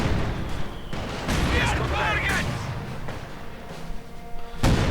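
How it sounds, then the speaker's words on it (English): A grenade bursts amid WWII strategy-game combat, a dull booming blast within continuous rumbling battle noise and scattered thuds of artillery and gunfire. "Grenade goes off."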